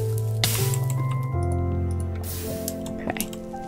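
A water spell cast in a modded Minecraft game gives a wet squishing burst and splashy crackles, layered over sustained tonal hums and a few clinking hits across a few seconds, without speech.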